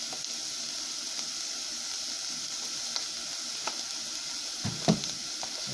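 Eggs fry in a pan with a steady, soft sizzle that runs throughout, broken by a few faint clicks and a louder scrape or tap near the end.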